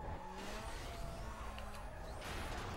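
Tires squeal in a sustained skid as a car drifts during a police chase in the video game Need for Speed: Most Wanted, the screech layered over a continuous roar of engine and road noise.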